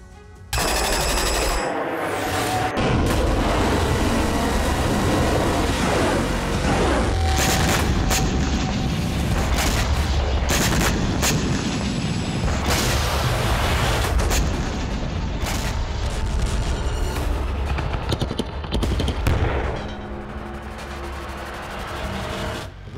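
Loud, dense bursts of booming blasts and rapid gunfire roll on continuously, with sharp cracks and rumbling impacts layered over a chaotic din, from a 500 kg bomb explosion in the Russia-Ukraine war.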